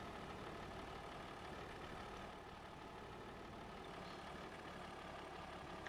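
A narrow-front 1206 tractor in Farming Simulator 25 pulls a planter across farm fields, its engine giving a steady, low, rumbling drone that stays constant and fairly faint the whole time with no other sounds.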